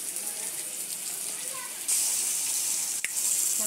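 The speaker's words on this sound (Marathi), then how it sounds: "आपल्याला थोडासा पाणी टाकायचं आहे" A little water poured into a hot frying pan of pods and thick masala; a soft sizzling hiss swells suddenly into a louder rushing sizzle partway through, close and steady.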